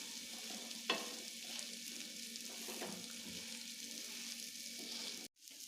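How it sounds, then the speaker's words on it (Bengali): Egg and eggplant frying in a pan on a low flame, a soft continuous sizzle with a couple of sharper taps as the pieces are pressed down, then a brief cut near the end. "একদম লো ফ্লেমে সুন্দর করে চেপে চেপে দিয়ে একটু ভাজা ভাজা করে নেব"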